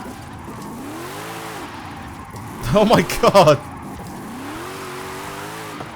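A car drifts sideways in Forza Horizon 5, its engine droning steadily under talk while a short burst of squealing tires rises midway, then the engine hum carries on; a player exclaims over it.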